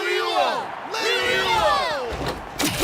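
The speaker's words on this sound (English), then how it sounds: "Hear that? The exhilarating cheers of the crowd." Crowd cheering in the Genshin Impact video game: a loud, dense swell of many voices roaring and whooping continuously, with sweeping rising and falling tones layered through it and a sharp burst near the end.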